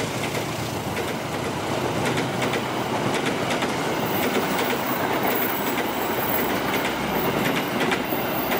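An Argo Parahyangan passenger train rolls past at Bekasi Timur with a loud, steady roar of wagons, rhythmic clickety-clack from the wheels and some squeal, sustained close throughout.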